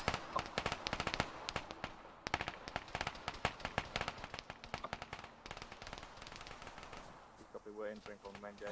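Rapid crackling bursts and sharp pops from incendiaries going off in the Arma 3 military game, dense and irregular for most of the stretch, thinning toward the end as a voice starts talking.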